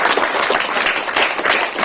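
Loud, dense audience applause at an under-19 inter-district cricket tournament function, a steady wash of many hands clapping close by for the full stretch with no voices.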